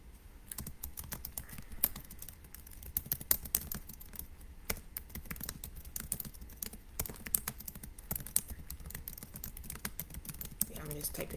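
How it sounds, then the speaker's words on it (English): Rapid, irregular clicks of typing on a computer keyboard, fairly quiet and close, continuing steadily without pause throughout. "Yeah, I'm just typing this up."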